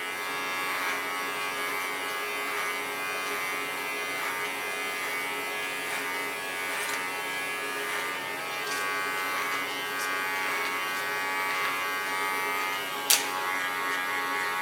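An electric hair clipper running steadily while cutting a copper-red pixie hairstyle, a continuous close buzzing hum with slight shifts in tone as it moves, and one sharp click near the end.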